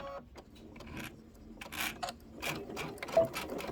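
Domestic sewing machine stitching a quilted table topper, short bursts of rapid mechanical whirring and needle clatter separated by brief pauses, close and moderately loud.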